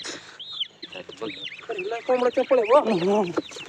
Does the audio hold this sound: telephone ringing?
no